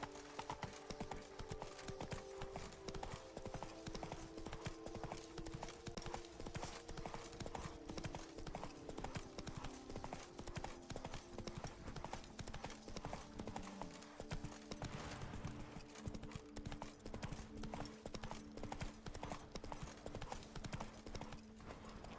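Roach, Geralt's horse in The Witcher 3, trots steadily in a continuous clip-clop of hooves, close and even throughout, with game music and a brief snort or whinny underneath.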